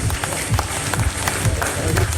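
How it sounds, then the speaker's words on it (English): A crowd at a press conference for the Manny Pacquiao vs Lucas Matthysse boxing fight applauds, a loud dense roar of overlapping claps sustained steadily, with crowd murmur and a low rumble underneath. "A round of applause, please."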